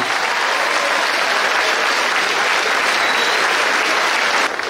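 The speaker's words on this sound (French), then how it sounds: "Je voudrais que nous lui fassions une salve d'applaudissements à Henri Vernière" A crowd at the Fête de Bessan Sunday bouquet ceremony gives a sustained round of applause in tribute to Henri Vernière, thick and even clapping that fills the whole stretch before easing off at the very end.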